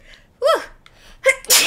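In Zelda: Tears of the Kingdom, a character sneezes from dust: a rising breathy gasp, a short pause, then another intake and a loud, sharp, hissy sneeze, close and alone.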